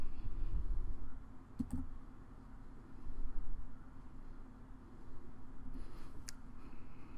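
Typing lettering on a computer keyboard in embroidery software, a steady run of soft key clicks with a few sharper taps, close by and alone.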